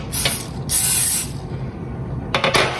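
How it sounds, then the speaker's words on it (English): Bursts of non-stick cooking spray hiss onto a cookie baking pan, one short puff, a longer spray, then a couple of quick spritzes close up. "I always spray my pan, so you want to give it a little light spray"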